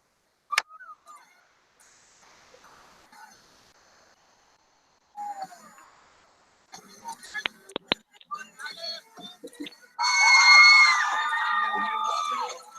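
Recording of women screaming played back, with high, wavering shrieks bursting loudly near the end after scattered clatter, thumps and background voices.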